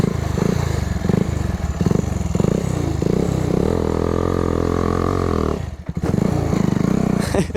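A Pulsar NS 220 motorcycle engine revving loudly at close range, pulsing throttle blips building into a sustained high roar, then a brief drop and renewed revving.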